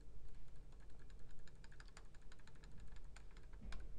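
A rapid run of crisp computer mouse clicks, close and fairly quiet, patters at an uneven pace over a low background hum while tracks are added in ImageJ.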